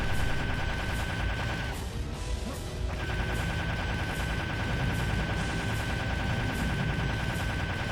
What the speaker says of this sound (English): I'll just keep shooting anyway, regardless